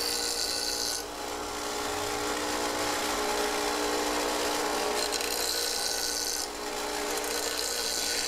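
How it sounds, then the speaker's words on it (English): A handheld grinder blends and smooths a titanium frame for a 10mm high-capacity 1911 pistol, giving a steady close-up rasping whine that runs almost continuously, with two brief dips in intensity and no talking. "I'm just going pretty easy, trying not to take off too much, because that grinder takes off pretty quickly."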